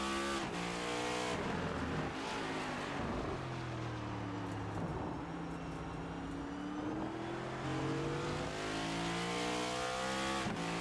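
A NASCAR race car in the iRacing game at Circuit of the Americas roars continuously, its engine pitch dipping through a corner and climbing again as the driver gets hard on the gas, loud and close throughout.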